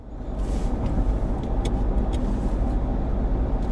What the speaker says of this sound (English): now we're driving here in this Ranger